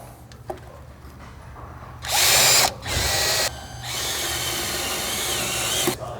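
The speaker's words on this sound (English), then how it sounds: "Mark the location of the overflow bottle and drill the holes out." A power drill whines in several short bursts, then runs steadily for a few seconds, drilling holes for a supercharger overflow bottle bracket on a Jeep JKU, loud and close with a faint background hum.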